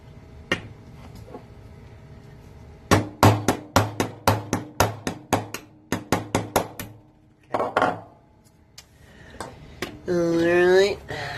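Metal hammer strikes drive a coil spring pin out of a Smith & Wesson Shield pistol slide: a brisk run of about a dozen sharp, ringing taps in quick succession, close and loud, with a few isolated knocks before and a brief voice after.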